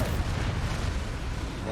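Bombarda blasting spell in the Hogwarts Legacy video game, a heavy rumbling explosion with deep booming low end that rolls on steadily for nearly two seconds, loud and close.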